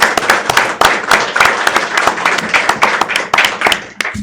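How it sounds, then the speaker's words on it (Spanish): An audience at a transparency and privacy event claps loudly for a visiting speaker, with distinct, uneven individual claps close by forming a lively burst that lasts about four seconds. "para quien les pido un fuerte aplauso"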